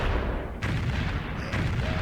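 Artillery bombarding an enemy city in Civilization III fires two muffled booms about a second apart over a dense, rumbling bed of battle noise.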